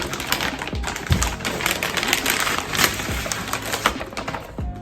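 A shoe bag and thin white wrapping paper around a pair of Nike Air Force 1 sneakers are pulled open, giving a steady, close crinkling and rustling with sharp crackles and no voices.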